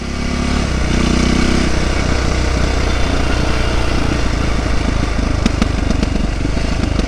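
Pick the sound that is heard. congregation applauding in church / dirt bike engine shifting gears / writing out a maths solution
dirt bike engine shifting gears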